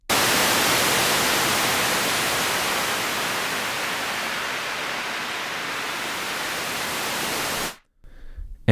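A white noise synth patch built in Ableton Live, routed through reverb, plays as a steady broadband hiss for nearly eight seconds and then cuts off, leaving a brief, faint reverb tail.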